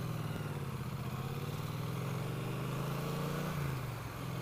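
A Triumph Street Cup motorcycle engine while riding, a steady low droning hum from close by with a slight pitch drop near the end, faint overall and without talk.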